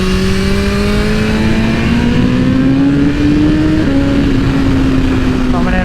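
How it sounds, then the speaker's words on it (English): A 2022 BMW S1000RR with Stage 2 Brentuning and aftermarket air filter howls loudly and continuously through corners, engine pitch rising and falling as the throttle is rolled off for braking and opened again. "Coming in, braking, getting off the throttle, braking, coming on again."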